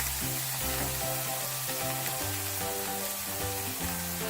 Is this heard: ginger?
yes